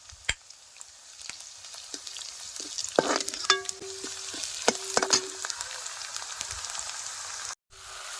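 Finely chopped garlic added to browned onions in a pan for a rustic dal tadka, a soft steady frying sizzle with occasional stirring scrapes and clinks.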